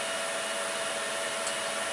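A vacuum pump on a Diener Femto plasma surface treatment system runs with a steady, even whirring hum and a faint constant tone, close and unbroken throughout.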